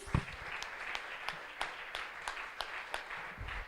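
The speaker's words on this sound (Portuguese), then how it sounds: "Uma salva de palmas ao Senhor Jesus." Congregation applause in a church service, faint and distant, with regular sharp claps and a steady wash of clapping running throughout.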